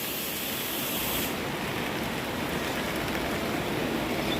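Heavy rain pouring steadily as a dense, even hiss with no pauses, constant and moderately loud, with no voices.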